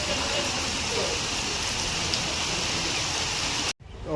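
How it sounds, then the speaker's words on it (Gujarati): Heavy rain falls in Palanpur, a loud, continuous close roar of water on surfaces that holds steady before cutting off abruptly near the end. "પાલનપુરમાં વરસાદ ફૂલ ચાલુ થઈ ગયો છે"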